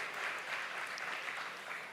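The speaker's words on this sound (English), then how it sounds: "A round of applause, come on." Audience applause at a live stage show, a steady, dense wash of many hands clapping that holds evenly for the whole stretch with no voices.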